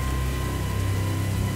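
Heavy rain and wind from a hurricane sweep through woods during a deer hunt, a loud, unbroken hiss of rainfall with a steady low rumble underneath.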